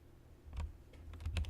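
Alt key pressed with mouse clicks on a computer keyboard while editing a layer mask: a few soft, close taps in a short cluster, quiet and alone.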